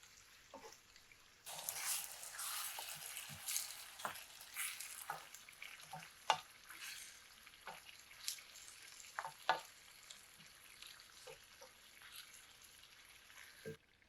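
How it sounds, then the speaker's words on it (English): Spiced marinated chicken for biryani sears in a pan with a steady crackling sizzle, broken by scattered stirring scrapes and pops, fairly soft overall. "Sear the meat for about 5 to 6 minutes until you notice it taking on a beautiful color"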